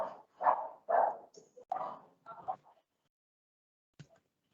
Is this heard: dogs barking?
yes